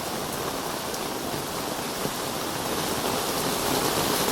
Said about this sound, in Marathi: ह्याच्यावर तुम्हाला दिसत असेल किती पाऊस पडतोय ते